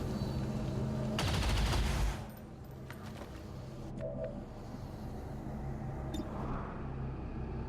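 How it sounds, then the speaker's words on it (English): Gunfire in the video game XCOM 2 as soldiers shoot at a sarcophagus: a loud dense burst of rapid shots for about a second, then quieter scattered game sounds and a couple of sharp clicks. "And now everyone can just go back to shooting the sarcophagus."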